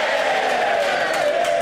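Members of the House of Commons cheer and clap in the 1997 chamber, a loud, dense, continuous roar of voices filling the whole moment.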